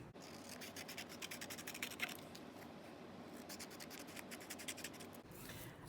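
Scissors snipping through paper along drawn lines to cut out a triangle shape, a quiet series of close, crisp cutting strokes with brief pauses.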